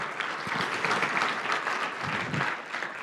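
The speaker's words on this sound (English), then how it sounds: "let's give a big round of applause to all those in that video and who made that video possible" A gala audience applauds, a full, even round of clapping from a large crowd that holds steady throughout, with a few low thumps underneath.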